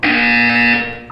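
A single loud, sustained electronic buzzer tone in the video game Portal 2, steady and harsh for about a second before it fades out.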